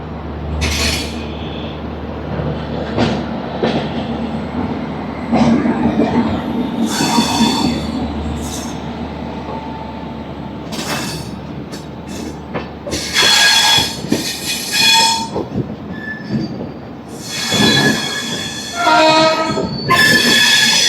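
Godavari Express train between Hyderabad and Visakhapatnam rolling on rails, with steady low rumble, repeated metallic wheel squeals and clanks rising toward the end, no talk.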